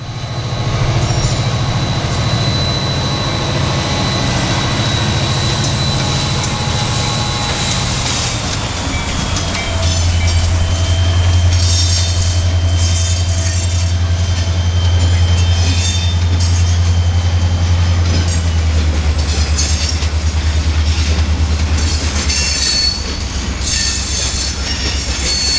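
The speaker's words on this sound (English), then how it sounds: "making for a symphony of EMD noises" EMD diesel locomotives in a Florida East Coast Railway yard rumble and idle nearby while rail cars roll along, with wheels squealing and metallic screeches over a deep, continuous engine drone.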